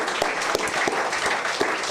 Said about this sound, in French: qu'on lui consacre 5 secondes d'applaudissements